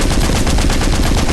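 Rapid automatic gunfire in a zombie video game, a dense stream of close, loud shots cracking in quick succession without pause.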